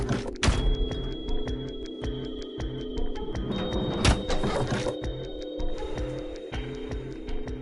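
A sliding door in the video game Zero Escape: Virtue's Last Reward opens with a mechanical hum, a sustained tone and a run of regular thunks, with two louder impacts near the start and midway.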